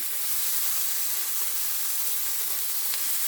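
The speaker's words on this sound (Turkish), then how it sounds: "Şimdi tavamın kızmasını bekliyorum. Kızdı arkadaşlar. Şimdi etlerimi koyuyorum." Meat sizzles in a hot frying pan, a steady close hiss with faint crackles and no talking.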